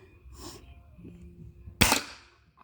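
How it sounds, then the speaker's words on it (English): A gunshot striking a bucket outdoors: one sharp, loud crack near the end, following quiet background sounds and faint voices. "You shot a bucket."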